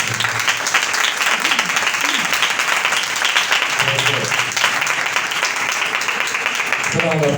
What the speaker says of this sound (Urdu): زوردار تالی بجائیں۔